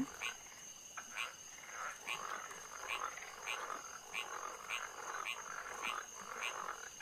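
Repeated frog croaks from the puzzle game Rusty Lake Paradise, a steady series of rhythmic rasping calls over a constant high electronic tone, with no talking.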